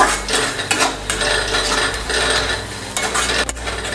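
Dry spices for an Assamese bottle gourd curry are stirred and fried in a pan. A utensil scrapes and rattles against the metal steadily and up close, with occasional sharper knocks.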